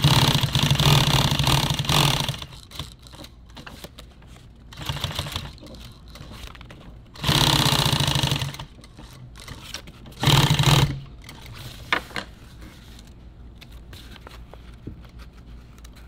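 A sewing machine stitches through layered nylon tactical gear in several loud, separate bursts of rapid clatter, with quiet pauses between runs.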